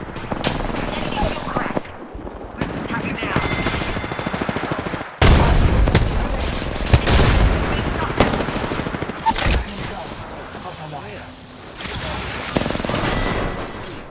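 Bursts of video game gunfire from several enemy squads, with rapid automatic fire and heavy volleys that swell and fade across the whole stretch. Firing is loud and near, with a slightly muffled lull in the middle.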